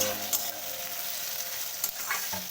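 Chopped capsicum frying in a pan with coriander stems, a steady bright sizzle with a few short scraping clicks from stirring, close and alone.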